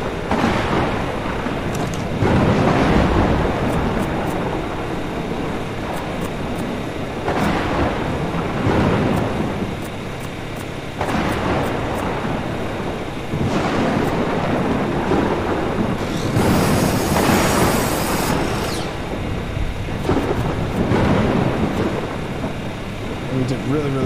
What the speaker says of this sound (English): Storm is insane.